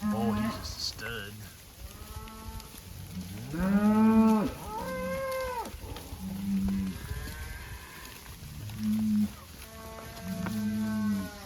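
Cattle on a drought-managed grazing operation moo repeatedly, long rising and falling bellows in several bursts, close and loud, with bits of talk from people nearby between calls.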